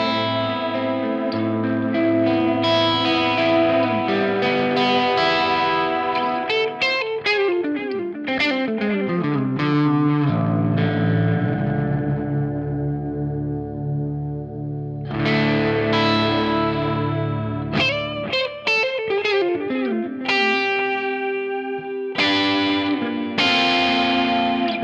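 A Giungi Path electric guitar with a split single-coil pickup plays melodic phrases and chords through an effects chain with chorus, echo and light distortion, sounding clean yet shimmering, sustained and continuous.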